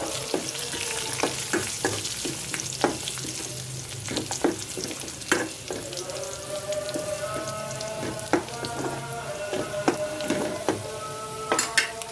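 Spices and dried chilies tempered in hot oil for a Bengali winter mixed-vegetable dish with chickpea dal, giving a steady close sizzle with sharp crackles and pops scattered throughout and no talk.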